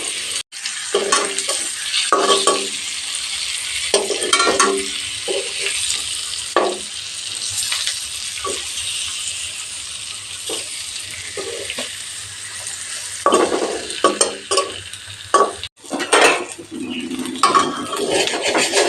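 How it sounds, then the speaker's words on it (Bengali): Eggs fry and are stirred in a pan, with a continuous sizzle broken by scraping and clinking of a utensil against the metal, close and steady throughout. "ডিম ভাজা হয়ে গেছে নামিয়ে নেব"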